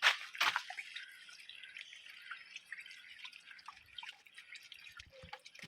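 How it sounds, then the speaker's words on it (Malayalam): Water draining from a fish tank through an unblocked pipe, with steady close dripping and trickling after a louder gush at the start; a voice speaks faintly. "അപ്പോൾ ഗൈസ്, വെള്ളം വരുന്നുണ്ട്."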